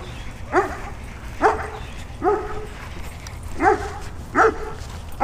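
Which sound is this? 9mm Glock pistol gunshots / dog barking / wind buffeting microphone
dog barking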